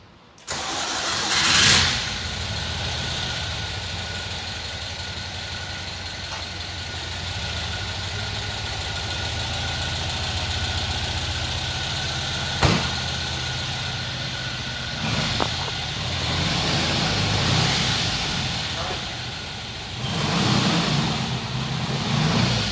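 A Porsche 356 Outlaw's engine cranks and catches, then settles into a loud, steady idle close by with a couple of short blips of revving near the end. No voices are heard over it.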